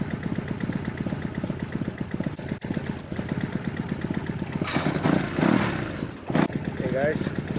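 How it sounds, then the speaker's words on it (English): A BMW R1200C motorcycle engine runs steadily with a low, even pulsing note and a few louder swells toward the end, heard close up. "today we're going to be riding the R1200C."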